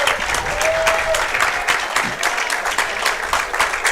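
Baseball crowd at Shipyard Park cheering and clapping during a high school game, a steady, loud wash of applause and shouts that holds for the whole stretch.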